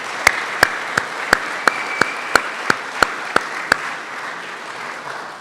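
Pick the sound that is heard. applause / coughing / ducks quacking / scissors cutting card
applause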